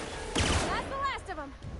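A laser pistol in The Outer Worlds gives a short burst of sharp, zapping shots with sweeping electronic tones trailing after, heard close and fairly loud.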